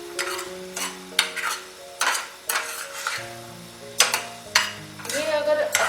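A spoon stirs palak masala for palak paneer in a pan, scraping in repeated strokes with a soft sizzle of oil beneath. Light clinks of utensil on metal mark each stroke, with faint background tones under the close stirring.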